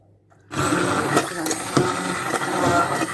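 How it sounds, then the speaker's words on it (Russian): An immersion blender switches on abruptly and whirs loudly and steadily, a continuous grinding motor buzz, while making pea soup. "Вот таким вот погружным блендером. Будет шумно, наверное, но я включу немножко"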